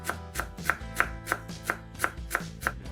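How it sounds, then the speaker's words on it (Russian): A knife chops a bunch of dill on a board in steady, even strokes, about nine crisp close taps over a faint musical background, with no talking. "Измельчаем пучок укропа"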